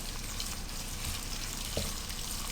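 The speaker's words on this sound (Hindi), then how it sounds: "और 1 मिनट के लिए इसे फ्राई करें।" Ginger garlic paste and coriander powder fry in hot oil for lemon chicken tikka, giving a constant close sizzle with a faint stirring scrape partway through and no speech.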